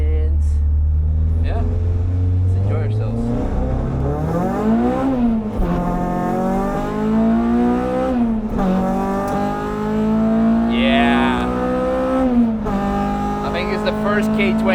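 A K24-swapped Honda Civic EP3 Type R on the Nürburgring, its loud engine heard from inside climbing through the revs in long pulls with brief drops at gear changes, under wind and road roar.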